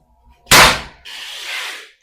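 An air rifle fires a single loud, sharp shot of a 13 grain Hercules pellet, followed by a softer hissing rush after a short gap, with no talk in between.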